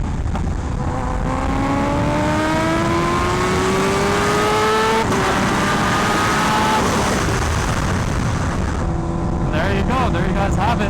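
Carbon-fiber Kawasaki Ninja H2R superbike revs loudly and continuously, its engine pitch climbing in long sweeping rises then dropping and rising again, heard close up from the rider's position with a steady roar throughout.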